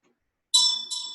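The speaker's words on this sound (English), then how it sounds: "So with the bell, we call all the wisdom dakinis or taras" A ritual bell struck during Green Tara practice rings out clearly after a moment of silence, sounding twice in a bright, sustained metallic tone that lingers and decays alone.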